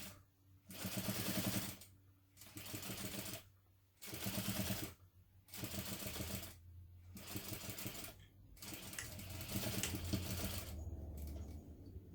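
A sewing machine top-stitches a fabric hobo bag in repeated bursts of rapid clattering, stopping briefly between runs and restarting at close range with no speech over it.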